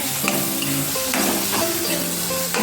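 Chopped tomatoes go into a frying pan for chicken curry, giving a steady sizzle. Tonal ringing and scraping clinks from stirring sit over it, and the sound stays loud and close throughout.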